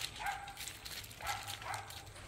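A puppy gives a few short, faint yips and barks in quick succession, quiet and somewhat distant.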